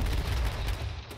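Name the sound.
gunfire in the video game H1Z1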